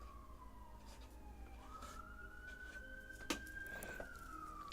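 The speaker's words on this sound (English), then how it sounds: "Sorry for the sirens going by." A siren wails past at a distance, its tone sliding low then rising and holding, over a low rumble of traffic and a couple of brief knocks.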